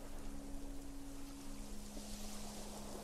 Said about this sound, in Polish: I fale oceanu bawią się ze mną.